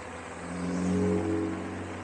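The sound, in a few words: road noise from fat tyres of Engwe L20 e-bike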